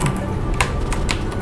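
A computer keyboard fitted with new keycaps is typed on in close, crisp clicks, a few sharp strokes standing out from a steady patter.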